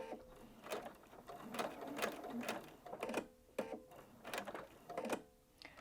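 A sewing machine runs quietly while stitching fabric for shirring, giving a soft, rapid mechanical chatter with quick rhythmic ticks, briefly stopping and restarting.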